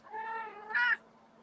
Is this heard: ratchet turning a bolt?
no